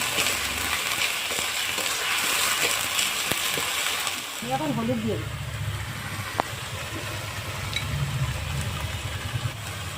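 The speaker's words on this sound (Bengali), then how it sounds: "মশলাটা ভালো করে ভেজে নেব" Spice paste of onion, ginger, garlic, green and dried chilli and cumin frying in a pan for a yogurt catla fish curry, a steady close sizzle that swells after a few seconds, with light stirring and some voice at the start.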